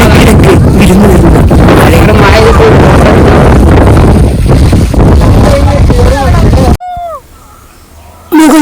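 Strong wind on a misty hilltop at Kakkadampoyil roars and buffets the microphone loudly for most of the stretch, then cuts off abruptly into a much quieter moment before returning.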